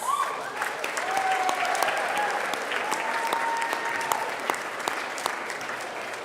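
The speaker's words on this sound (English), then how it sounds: "Give them a round of applause." Graduates and guests at a college career and technical programs graduation ceremony break into sustained applause, a steady crowd of clapping hands heard at moderate distance with a few brief voices over it.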